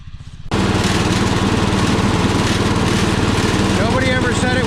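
Power King garden tractor mowing grass near a cornfield, its engine starting up abruptly and then running loud and steady close by throughout.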